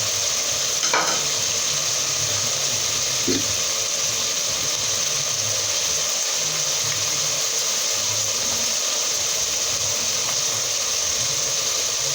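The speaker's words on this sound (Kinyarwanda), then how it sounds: "Mvange, uravanga ukareka bikaza guhira rimwe n'inyanya" Beans cooking with tomato paste and tomatoes in a pot, a continuous loud bubbling sizzle with a couple of brief stirring knocks near the start, steady and close throughout.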